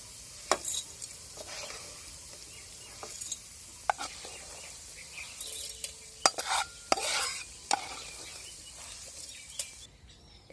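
Lentils finish frying in hot oil in a pan for a Bengali drumstick curry: a steady soft sizzle runs throughout, broken by sharp clinks and scrapes of a spoon stirring against the metal.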